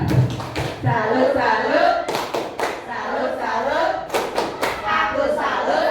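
A 'tepuk salut' clap chant in a classroom, with rhythmic bursts of several hand claps interspersed with chanting voices throughout.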